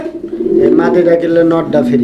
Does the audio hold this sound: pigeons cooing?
yes